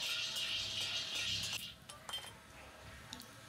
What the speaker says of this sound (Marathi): आता छान खमंग भाजून घेऊयात.